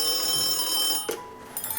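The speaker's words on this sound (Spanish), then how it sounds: "Atiendo el teléfono." A telephone rings over a steady electronic hum, with a short ring burst followed by a second brief chime, close and moderately loud.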